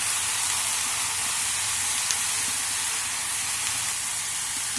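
Vegetables hitting a pan of hot oil with ground cumin, garlic and spice paste give a dense, continuous loud hiss that holds evenly from start to finish, with no voices.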